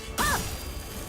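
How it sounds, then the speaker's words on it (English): Glass shatters once in the video game Limbus Company, a short sharp crash with a ringing swish over a steady, low game background. "We heard this glass shatter before."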